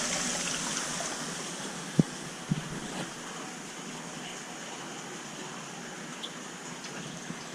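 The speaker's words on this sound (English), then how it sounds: "This is the water overflowing from 2 tanks into the sump." Water spills steadily from two aquarium tanks into a shared filtration sump, a continuous close rushing trickle with no talk over it.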